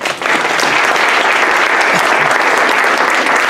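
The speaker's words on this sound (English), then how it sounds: "Give them a round of applause." A conference audience applauds a panel on social media and social justice, a steady, loud wash of many hands clapping throughout, with no one speaking over it.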